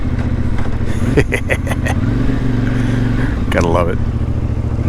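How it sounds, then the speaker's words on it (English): A CFMoto Ibex 450 motorcycle, modified with a 15-tooth sprocket, drones with a steady, throaty exhaust note on a foggy road, while someone talks briefly over it. "Got that amazing CF Moto 450 exhaust note."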